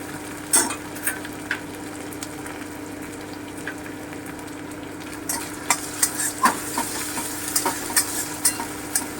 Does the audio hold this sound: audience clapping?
no